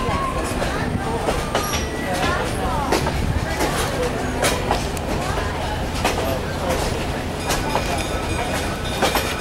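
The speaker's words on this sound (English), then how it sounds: "Here comes the railroad car." A railroad car rolls past close by with continuous rumbling and rhythmic clickety-clack wheel beats over the rails, steady throughout and partly mixed with people talking.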